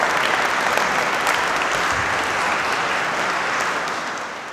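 A congregation at a carnival church service gives a singer a big round of steady applause, dense and even, tapering off toward the end.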